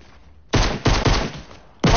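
Pistol gunfire in Fortnite on PS4, a quick run of loud, sharp shots, three or four in close succession after a short pause, then another shot right at the end.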